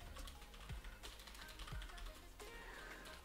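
Rapid keyboard typing with irregular clicks and clacks on a computer keyboard, steady and fairly close, with no voices over it.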